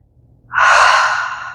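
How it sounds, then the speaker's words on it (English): A single deep breath taken during standing yoga practice, a long airy exhale or sigh that starts abruptly after a brief quiet and fades slowly, close and loud, with no speech. "One more big breath here."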